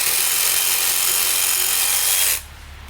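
A DeWalt one-handed cordless saw cuts through a branch still attached to a tree, a loud steady buzzing whine for about two seconds that stops abruptly, leaving quiet outdoor background.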